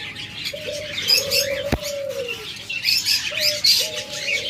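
Caged lovebirds and other pet birds at a bird sale give repeated, mid-pitched tonal calls in short bursts, with fainter chirps and twitters in the background.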